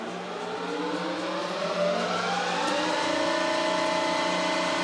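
A Schaublin CNC lathe spindle runs steadily at its maximum of 3,500 RPM, a continuous close mechanical whine with rising harmonic tones and a slight swell in level partway through, no voices.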